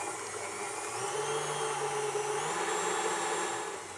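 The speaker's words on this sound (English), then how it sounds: "at the same time that our cream is working in the mixer, I'll stop it for a bit because of the noise" Electric mixer whipping cream at fast speed for galaktoboureko, a steady high-pitched whir that runs continuously and fairly loud before easing off slightly at the end.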